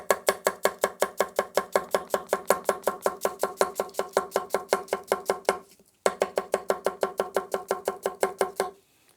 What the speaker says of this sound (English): Let's julienne an onion with the G2.